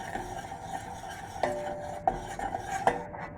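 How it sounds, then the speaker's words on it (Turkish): A spoon stirs ayran aşı, a Turkish yogurt soup, in a pot, scraping and clinking against the metal sides a few times over a low simmering background. "İyi karıştırma yapalım değil mi?"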